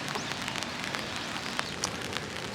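Steady, soft rain patters across a park of sakura trees in Kyoto near the river, with a few louder drops standing out against the even hiss.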